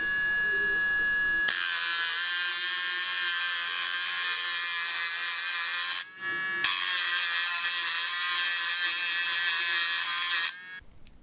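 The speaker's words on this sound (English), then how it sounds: "Enter the Dremel tool." Dremel rotary tool grinding the coating off an RE14 motor: a loud, close, high-pitched whine starts abruptly, dips for a moment midway, resumes, and then cuts off.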